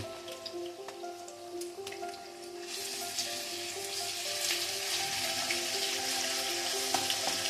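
Garlic paste frying with softened onions in a pan for a country chicken curry, a soft, steady crackling sizzle that grows denser and louder after the first few seconds, alone and close.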